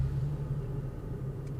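A Toyota Tacoma pickup truck's engine starts in neutral and settles into a steady, low, close rumble, with no talking.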